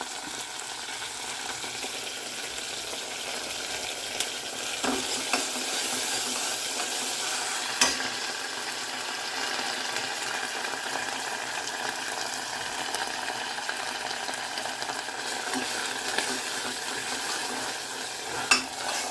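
Ginger garlic paste sizzles steadily in a pan, a continuous close, even frying hiss running throughout with a few faint clicks of stirring and no voices.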